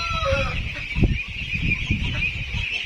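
A rooster (barako) gives short clucks and throaty calls close by, with a steady high chirping or hum in the background and faint rustling under it.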